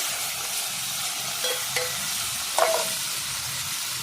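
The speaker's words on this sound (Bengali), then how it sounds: "নুন আর হলুদ দিয়ে উচ্ছেগুলো সব লাল করে নেব" Bitter gourd pieces frying in oil with salt and turmeric, a steady close sizzle under a few light metal stirring clinks.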